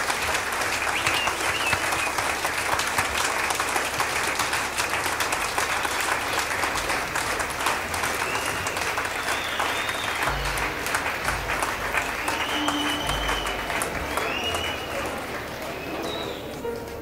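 Sustained, loud applause from a concert audience at a Helsinki gypsy-jazz show, dense clapping holding steady for most of the stretch before easing off slightly near the end.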